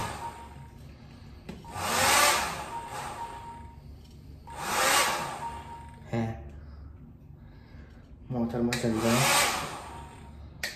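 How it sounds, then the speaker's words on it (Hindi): A hair dryer runs in three loud bursts of steady roaring airflow, each lasting a couple of seconds with quieter gaps between, close to the listener. "या मैं हेयर ड्रायर करने बाहर गया था क्योंकि यहाँ का स्विच नहीं चल रहा था"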